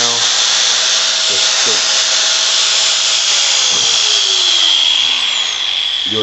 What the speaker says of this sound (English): You just take your grinder and shave down the ridges